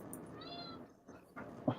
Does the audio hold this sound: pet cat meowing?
yes